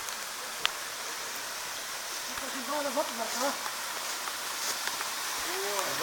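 A waterfall at Cherven Bryag in Bulgaria gives a steady, broad rushing roar, with faint voices briefly audible over the water.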